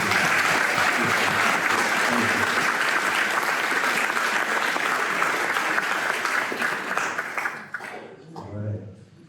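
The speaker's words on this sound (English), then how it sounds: "Give these guys a round of applause." Keynote audience at a charity event claps loudly and continuously for several seconds before the applause thins out and a voice begins speaking at the end.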